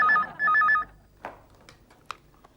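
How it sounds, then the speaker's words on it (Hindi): A telephone rings twice as a call is placed, giving two loud warbling electronic bursts up close, then a few faint clicks and quiet room sound. "मीरा जी को फोन कर रही हूँ"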